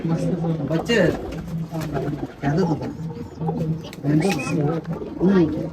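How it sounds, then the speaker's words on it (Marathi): Repeated soft, low pigeon coos close by, rising and falling in short phrases, with a voice talking over them. "इथे पण एक जोडी आहे उडाणाचे सर्व कबूतर"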